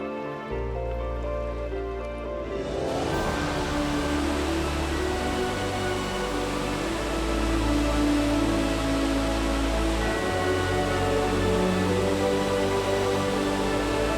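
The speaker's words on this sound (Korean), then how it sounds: "세계에서 가장 장엄한 폭포인 빅토리아 폭포는 자연이 만들어낸 위대한 작품이다" Victoria Falls thundering as a broad, steady roar of falling water, loud and unbroken, with a low rumble underneath and a tonal layer that swells in partway.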